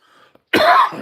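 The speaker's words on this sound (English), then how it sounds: "a little bit of a cough going" A single harsh cough with a throat-clearing rasp bursts out after a short quiet pause, loud and close, following faint breathy sounds.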